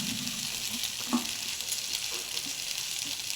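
Okra sautéing in a hot pan gives a steady, close sizzle with a faint stirring scrape partway through and no voices.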